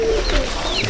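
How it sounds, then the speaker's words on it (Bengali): A pigeon coos close by in a garden, a brief soft warbling call heard clearly over a faint background hum. "এই পায়রা আনা হচ্ছে,"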